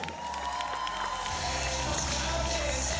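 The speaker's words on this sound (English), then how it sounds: "First one, applause for Spain!" Spectators at a men's beach volleyball bronze match in Doha cheer and applaud, a broad sustained roar of crowd noise heard from a distance, fairly faint and steady.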